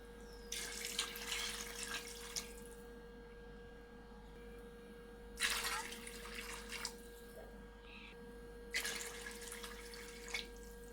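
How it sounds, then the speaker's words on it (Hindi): Water pours into a pot of rice in three separate splashing bursts a few seconds apart, fairly quiet, over a steady low hum. "अब हम इसमें पानी डाल देते हैं।"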